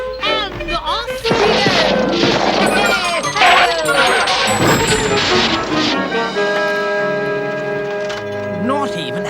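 A cartoon car driven recklessly by Toad smashes up, a jumble of crashes, clangs and ringing metallic bangs with bell-like tones, followed by lingering musical ringing under a playful score.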